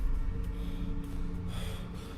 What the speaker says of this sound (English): I don't like the way he's breathing at me